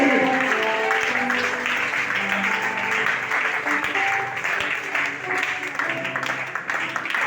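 A church congregation applauds the Lord, a dense, sustained wash of clapping that holds steady throughout, with musical tones running beneath it.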